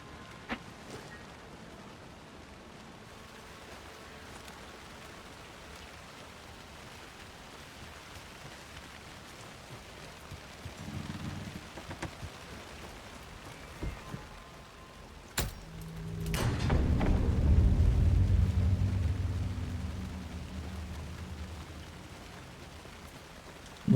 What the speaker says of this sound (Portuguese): Noite na chuva, que delícia